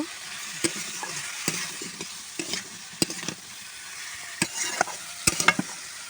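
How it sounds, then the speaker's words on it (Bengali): Vegetables with salt and turmeric are sautéed in a pan. A soft, continuous sizzle sits under irregular, crisp scraping and clacking strokes from stirring, spaced unevenly through the clip without any talking. "পরিমাণ মতো লবণ দিয়ে দিচ্ছি পরিমাণ মতো হলুদ দিয়ে দিচ্ছি এবার ভালো করে কষিয়ে নেব"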